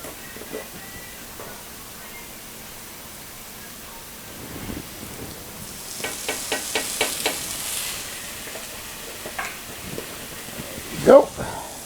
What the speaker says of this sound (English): got my vegetables sauteed down where I want them. I'm going to add my garlic now. And let that cook a minute